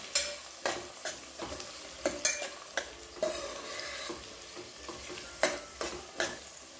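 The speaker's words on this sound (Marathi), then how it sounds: "कांदा हलकासा गोल्डन ब्राऊन होईपर्यंत त्याला चांगल्या प्रकारे परतून घ्या" Onions frying and being stirred in oil for chicken biryani: a steady sizzle under repeated scraping strokes of a spoon against the pan, close and alone without talk.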